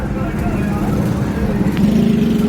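Heavy, jammed street traffic in Lahore during a strike, with a dense continuous rumble of car and motorcycle engines and occasional revving, close and loud throughout.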